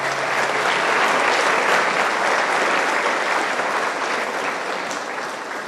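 Audience at a church gathering applauding mothers, a dense loud burst of clapping that holds steady and tapers slightly toward the end, with no voices over it.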